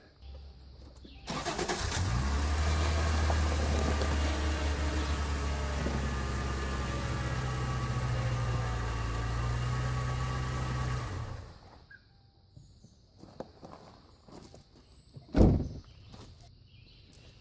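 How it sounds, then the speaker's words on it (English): A Subaru car engine cranks and catches, then idles loudly and steadily for about ten seconds before shutting off, followed by faint clicks, a thump and small movements nearby. "we can go ahead and start the vehicle and turn the wheel to the right"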